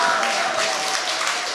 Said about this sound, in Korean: 자, 그러면 이 세 분께 박수 보내주십시오.